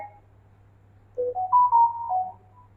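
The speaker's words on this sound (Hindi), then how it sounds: "ईशानु मैम फोन कर रही है यार, वो कंपनी, ये मकान मालकिन फोन कर रही है।" Mobile phone ringtone for an incoming call: a short melodic run of several bright electronic tones that climbs, holds and falls over about a second, heard fairly close over a steady low background hum, with no talking.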